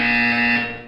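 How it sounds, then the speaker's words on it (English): Electronic buzzer from the video game Portal 2, a single loud, steady harsh tone lasting just under a second before fading out at the end. "You will hear a buzzer. When you hear the buzzer, look down at the floor."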